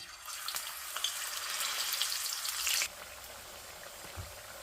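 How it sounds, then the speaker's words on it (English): Potatoes fry in hot oil with a dense, steady crackling sizzle that ends abruptly partway through, followed by a quieter hiss. "எண்ணெய் சூடாகிட்டு கிழங்க பொரிக்க போகிறோம்."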